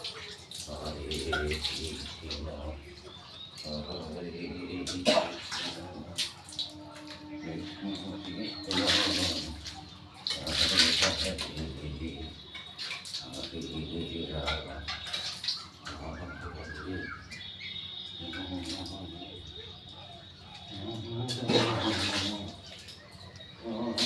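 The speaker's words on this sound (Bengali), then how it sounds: "দেখুন মন্দির এখন জল দিয়ে ধোয়ানো হচ্ছে" Water splashes and pours as a temple is washed down by hand, uneven bursts of wet slapping and running water over steady background chatter, with occasional bird calls and people talking nearby throughout.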